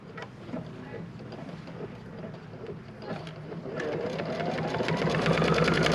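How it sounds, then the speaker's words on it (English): A sewing machine stitches fabric in steady running bursts, the motor note rising and growing louder toward the end, with no talk over it. "So I'm going to go ahead and pull my bobbin thread back up, set it down, and sew."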